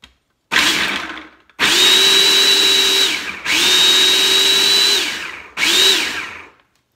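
Food processor pulsing to mince garlic into a fine consistency: three long loud whirring bursts and a shorter fourth, each ending in a sudden stop, with a brief earlier burst, close and alone.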